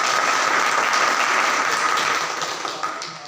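Applause from the audience at a district-level meeting of teachers and enthusiasts, a dense, steady burst of many hands clapping that fades slightly toward the end, with no talk over it.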